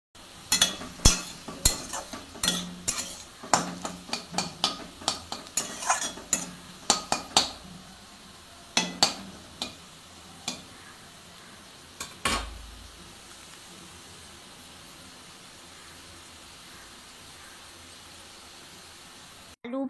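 Someone is cooking in a pan in a home kitchen. Repeated metallic scrapes and clanks of a spoon stirring against the pan come in quick bursts over a faint background sizzle, then the sound fades to near quiet.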